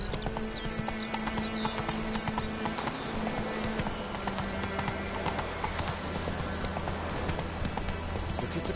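Roach the horse galloping in The Witcher 3, rapid rhythmic hoofbeats running steadily throughout with game music and a spoken voice over the top.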